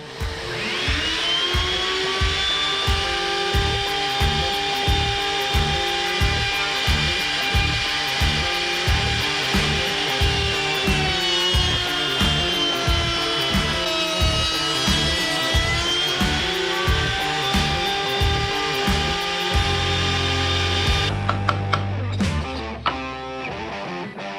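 A power saw with hold-down attachments and no safety guards cuts wood with a loud, sustained, high motor whine and a rhythmic pulsing undertone, shifting in pitch as the cut ends and the blade winds down.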